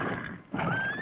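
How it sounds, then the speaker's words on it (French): Horses neigh and whinny in a 1958 Felix the Cat cartoon, a bright drawn-out cry rising over a busy broadband backdrop, loud and close for about a second with no talk. "Tous ces magnifiques chevaux sont à moi, tous."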